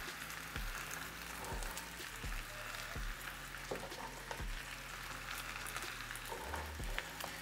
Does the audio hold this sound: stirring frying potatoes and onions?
yes